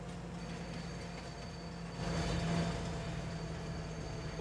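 A train rolls along the tracks in the farming video game Farming Simulator 25, a steady low mechanical rumble that swells briefly midway, with faint metallic wheel tones and no talking.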